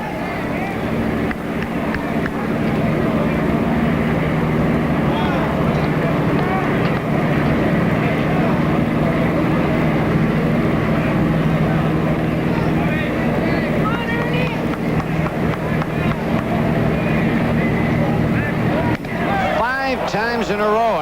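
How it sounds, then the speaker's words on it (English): Propeller airplane towing a banner high over a 1984 Blue Jays ballpark, a steady droning engine hum running throughout beneath continuous commentary and crowd noise. "there's a plane up there with a big banner in the back"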